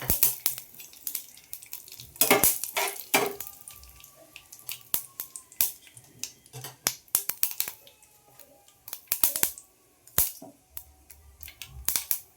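Curry leaves crackle and spit in hot oil for a ridge gourd curry, with sharp irregular pops and bursts of sizzle close by over a quiet background.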